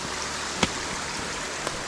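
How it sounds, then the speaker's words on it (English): Small waterfall beside a hiking trail in Babcock State Park, a steady broadband rush of falling water close by, with a couple of brief knocks over the continuous wash. "Little waterfall"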